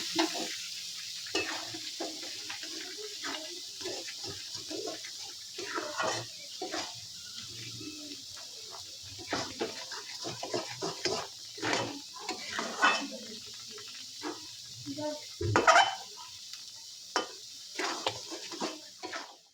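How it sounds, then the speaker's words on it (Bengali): A spoon stirs kul (jujube) pickle in a pan over low heat, giving repeated soft scrapes and clinks in irregular bursts against a faint sizzle, close and fairly quiet with no talking. "এবার ঢাকনা খুলে হালকা আঁচে বারবার নাড়াচাড়া করব"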